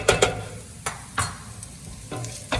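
Rice frying in a pan with garlic just added, a spoon scraping through it in a few sharp strokes over a soft, low sizzle.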